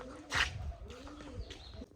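A pigeon's soft, low cooing rolls through a couple of short phrases, close by and fairly quiet, with a brief rustle near the start.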